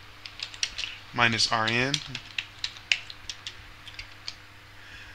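Quick, light clicks of keys as a Linux command is typed on a computer keyboard, a steady run of separate taps with someone speaking briefly near the start.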